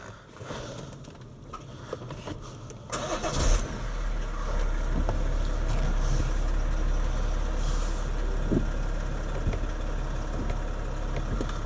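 A car engine cranks and catches after about three seconds, then settles into a loud, steady idle rumble close by, with no talking.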